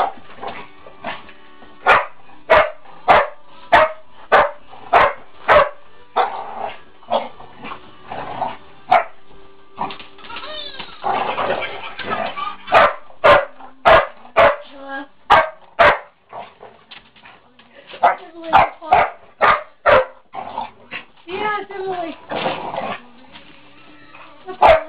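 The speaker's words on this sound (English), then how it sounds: "The Christmas dog is fighting. They're playing." Two dogs play-fighting indoors, with rapid rows of sharp, loud barks and yips broken by growling and whimpering scuffles, heard close and continuing throughout.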